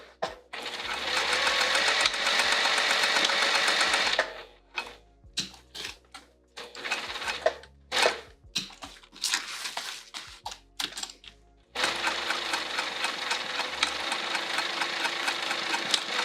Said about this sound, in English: we're gonna sew right across just to secure